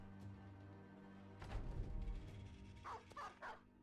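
Dogs barking in the Battle Brothers video game, a cluster of loud close barks in the middle followed by a quick series of sharper yips, over a steady droning game soundtrack.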